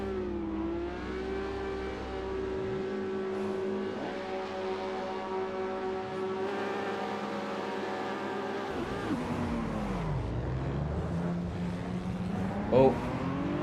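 Race car engines at a race start in a racing game on a Russian SMP grid. Steady engine drones rise and fall in pitch as cars accelerate, with a commentator talking over them throughout.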